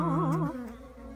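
A newly emerged honeybee buzzing up close, a brief loud droning hum that wavers in pitch, then fades to a softer, lower buzz.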